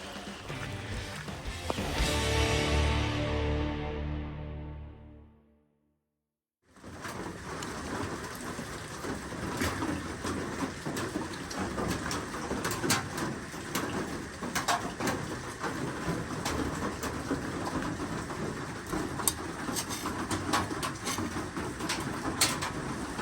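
Steady rain falls on a Florida hiking trail near Lake Ocklawaha, a dense continuous patter on the surrounding surface, with a brief louder rumble early on and a moment of near silence before the rain resumes.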